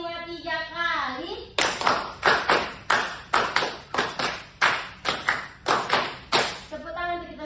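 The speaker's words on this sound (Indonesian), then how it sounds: "Tepuk tangan untuk kita semua" A classroom of children claps together in an ice-breaking game, many sharp group claps in a quick rhythmic run of about a dozen beats, bracketed by a teacher's voice speaking before and after.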